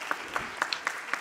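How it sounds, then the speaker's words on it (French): Sparse, scattered clapping from a small audience at a regional conference, just a handful of distinct claps spaced across a brief moment, faint and somewhat distant. "je pense qu'on peut l'applaudir"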